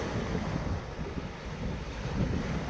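Strong wind on the island of Porquerolles buffeting the microphone, a constant broadband roar with gusty swells and no voices.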